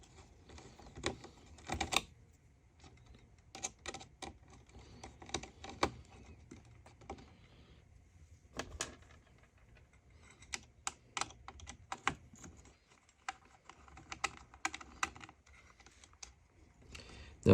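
Small screws being removed from a Denecke TS-C smart slate: faint, close clicks, ticks and scratches of a small tool on hardware, coming in irregular bursts with quiet gaps.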